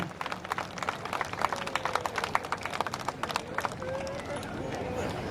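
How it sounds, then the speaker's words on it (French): Crowd applause at a 2014 European meet of film star cars, greeting Ford Explorer owners from Switzerland; steady, dense clapping runs throughout while a voice talks over it. "Ça s'applaudit quand même."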